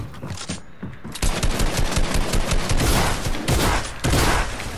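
Combat shotgun firing in a Fortnite battle royale match, a loud close burst of rapid, overlapping blasts that follow one another almost without pause, with no voices.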